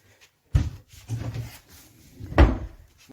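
A wooden hatch door over a stairwell, now set flush into a floor, is opened with a near thud followed by soft scraping and creaking, then another firm knock as it swings open, with no talking.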